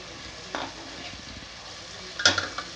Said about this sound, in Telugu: అల్లం వెల్లుల్లి పేస్ట్ పచ్చి వాసన పోయేంత వరకు వేస్తున్నాము